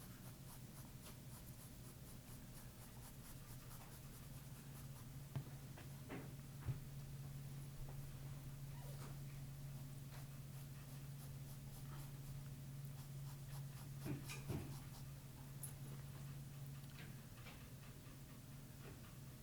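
Graphite pencil crosshatching strokes on paper while shading an egg form: faint, scattered scratchy strokes close by over a low steady hum, with no voices.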